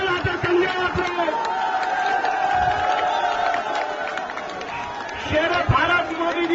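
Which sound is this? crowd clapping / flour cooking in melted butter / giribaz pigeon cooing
crowd clapping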